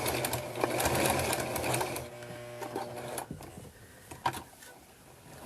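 A sewing machine runs close by while quilting, a fast steady whirring stitch that slows and fades into lighter intermittent clicks and taps.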